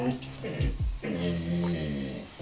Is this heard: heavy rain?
no